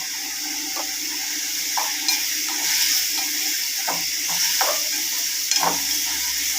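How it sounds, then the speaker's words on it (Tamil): Green eggplant sautéing in a pan with salt and turmeric, a constant sizzle broken by repeated stirring scrapes of a spoon every second or so, close and fairly loud. "உப்பு போட்டு நல்லா வதக்கிக்கலாம்."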